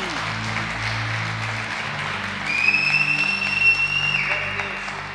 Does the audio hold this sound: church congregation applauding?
yes